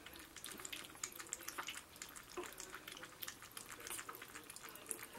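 Several dogs lap and slurp water from a bowl, a busy run of wet, clicking laps close by at low volume, steady without pause.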